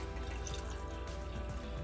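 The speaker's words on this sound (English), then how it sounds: "I'm going to add about half a cup of water." Water is poured into a jalapeno hot sauce mixture made from pickled jalapenos, a steady low liquid stream with faint splashing and dripping close by, alone without talk.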